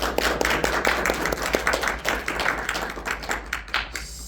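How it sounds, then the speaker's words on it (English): Convention panel audience applauding, a dense field of many hands clapping with scattered sharper claps, steady and fairly close, fading slightly toward the end. "And give our surprise guests a round of applause as well."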